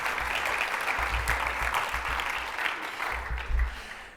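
Audience at an economic growth summit in Canada clapping in a large room, a dense sustained round of applause lasting several seconds, moderately loud and fading slightly toward the end.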